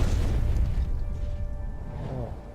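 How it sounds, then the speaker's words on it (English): Explosions in the video game Stories: The Path of Destinies, a heavy low rumbling boom that fills the whole stretch, loud and close, with a faint steady tonal hum running underneath and no voices. "Cool guys, don't look at the explosions"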